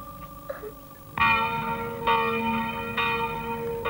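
A village church bell rings on a weekday early afternoon, three clear strikes spaced about a second apart with long ringing decay, moderately distant over a quiet background.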